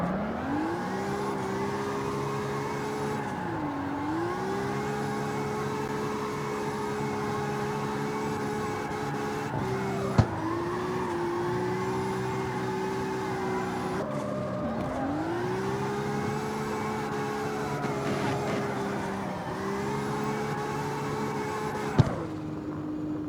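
A prototype drift car in CarX Street spins its wheels on and on, its engine holding a loud, steady high-revving drone that dips in pitch every few seconds before climbing back, with a couple of sharp clicks along the way.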